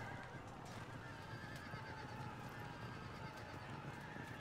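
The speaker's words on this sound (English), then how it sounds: "That's a lot of whinnying horses." Horses whinny amid a dense, continuous battle din in the video game Field of Glory II: Age of Belisarius, a steady wash of noise with high neighing calls rising through it.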